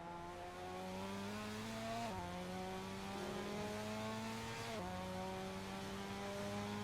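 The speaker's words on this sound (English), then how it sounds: "Just listening to that Subaru engine, it's absolutely beautiful." On-board Subaru race car engine at Fuji during a GT Asia race, a loud continuous engine note climbing in pitch through the gears with two sharp upshifts, no talk over it.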